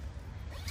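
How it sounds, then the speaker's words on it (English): Zipper sliding along a zippered pouch case for an AddsFit massage gun, recorded outdoors in a park; one short, steady rasping pull under low background rumble. "it has a nice zipper for the manual"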